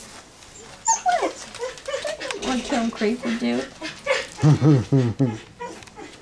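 Puppies whimper and yip in high, squeaky bursts close by while people talk over them.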